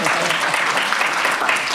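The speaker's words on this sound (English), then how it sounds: "let's give Ireland one more round of applause" An audience at a livestreamed storytelling event about young adults and ALS claps in a dense, sustained round of applause.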